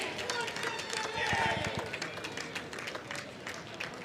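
Crowd at a lawn bowls pennant match on an outdoor green erupts in cheers and scattered clapping after a bowl knocks out the opposition's, a loud, sustained burst of noise with voices mixed in.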